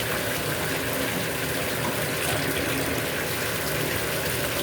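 Hot, steaming water pours steadily into a bathtub as it fills, a continuous close gushing roar with no pauses and no voices.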